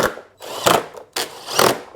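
A power tool drives bolts up into a lawn mower's cover from underneath, with three loud bursts of whirring and rattling separated by short pauses, close by and with no talking.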